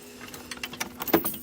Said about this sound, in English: they hear my keys and they come running